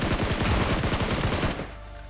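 Rapid automatic gunfire rattles loud and close in PUBG Mobile, a dense burst lasting about a second and a half before cutting off.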